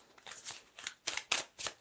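Soft, quick riffling bursts of tarot cards being shuffled, a few short flurries in a row, fairly quiet and close.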